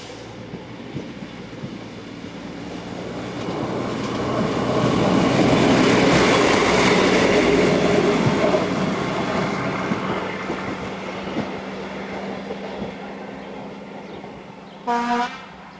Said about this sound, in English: Here railcar 810536 departs with the 1433 to Bratislava.